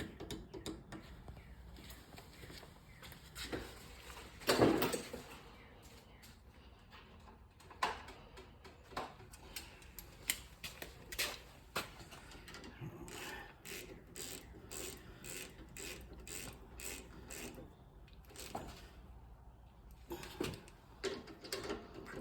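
Ratchet clicks come in quick bursts as 12mm brake caliper bolts are tightened during a rear brake job on a 2000 Chevy Tahoe LS, with scattered metallic clacks and handling noise in a quiet garage.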